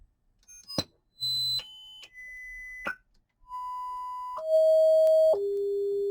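A Luxman R-117 receiver on the test bench produces a series of steady electronic test tones that step between pitches, ending on a sustained lower 400 hertz tone, with no voices.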